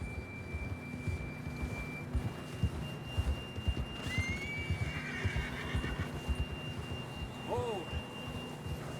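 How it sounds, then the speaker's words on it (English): Hooves clip-clop in a steady rhythm in Red Dead Redemption 2 under a faint steady tone, with a horse whinnying near the end. "John was riding that horse when we left Blackwater."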